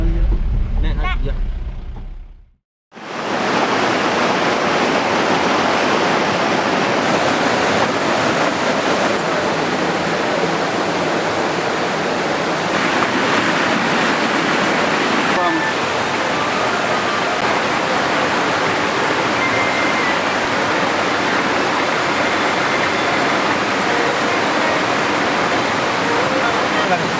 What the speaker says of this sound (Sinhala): මේ යන්නේ මේ මැණික් ගඟ මේ යන්නේ